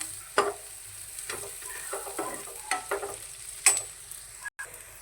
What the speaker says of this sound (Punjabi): ਮਸਾਲੇ ਆਪਾਂ 2-3 ਮਿੰਟ ਲਈ ਚੰਗੀ ਤਰ੍ਹਾਂ ਭੁੰਨ ਲਏ ਜੀ